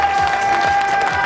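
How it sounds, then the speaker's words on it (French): Applause at a triathlon prize ceremony outdoors at the Triathlon des Lacs, a short burst of crowd clapping under a steady tone, with a few low thumps. "on peut les applaudir très fort"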